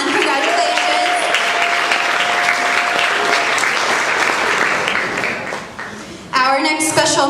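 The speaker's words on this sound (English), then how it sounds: "Let's clap again." Applause from an audience at a high school awards ceremony, a dense, steady clapping that thins out briefly near the end before swelling again, with a voice speaking over it.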